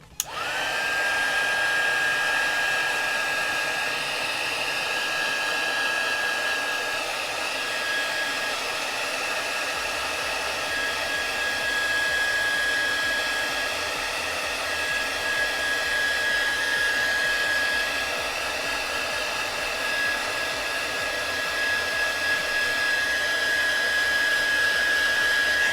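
A heat gun warms a cracked Galaxy S10 Plus phone screen, giving a loud, continuous blowing hiss with a steady high whine that runs unbroken for the whole stretch, no talking.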